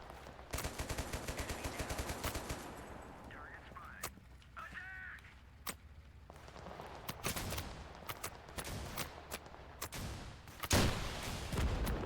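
Bursts of .50 cal machine gun fire in the video game Total Conflict Resistance, rapid rattling volleys and scattered sharp shots at low volume, with voices talking in between.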